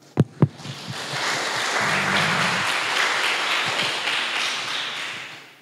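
Two sharp taps open before an audience breaks into sustained applause at a college talk show and try-out event in a hall, the clapping swelling quickly and holding steady before easing off at the end.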